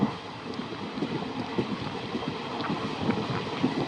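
Slow passenger train running on the Itwari to Tatanagar route after leaving Raipur, a steady rumbling roll with faint rhythmic clatter and wind noise, heard from inside a general coach.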